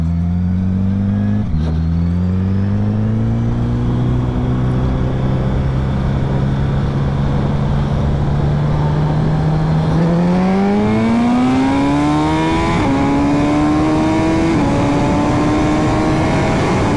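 A Ducati Superleggera V4 and a built-motor Suzuki Hayabusa run a second-gear roll-on race, loud close engine drone with rising pitch as they accelerate, brief shift-like breaks in the tone, heard without talk.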